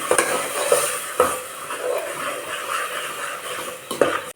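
Masala fries on medium flame in a pan for mutton saaru while a metal spoon stirs it, scraping and clinking at intervals over a continuous close sizzle, with no talking.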